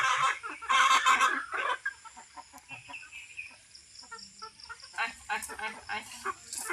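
Chickens cluck and squawk in bursts as they are grabbed and held by the wings, loud close flurries mixed with voices talking over the commotion.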